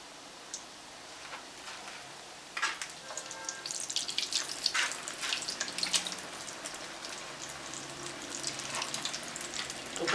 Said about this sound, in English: My oil is hot. Now I don't fry my fish roll.